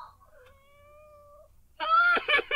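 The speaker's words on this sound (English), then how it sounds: "my cat is on my bed" A pet cat meows with a long, drawn-out tonal cry followed by a brighter, louder meow near the end, clear and close in a quiet room.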